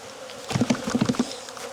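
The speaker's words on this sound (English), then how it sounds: "They sound like a queen right hive to you?" Honey bees in a queen-right hive make a close, dense buzz that swells into a series of rhythmic pulses for about a second before settling back down, with no voices.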